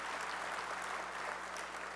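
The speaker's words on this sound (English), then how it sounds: "If you could all give him a round of applause" A conference audience at a public transportation general session applauds steadily throughout, a dense continuous wash of many hands clapping at moderate level, heard alone without talk.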